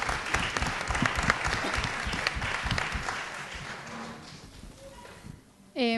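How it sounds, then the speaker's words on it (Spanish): Audience applause at a talk on migration and gender, a steady crowd clapping that fades over several seconds as a voice begins speaking over it near the end. "les pido un aplauso para nuestros docentes"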